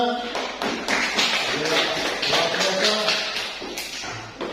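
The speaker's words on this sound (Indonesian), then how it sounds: "Tepuk tangan untuk kita." A classroom group bursts into applause, a dense run of close hand claps and taps lasting several seconds, with voices mixed in.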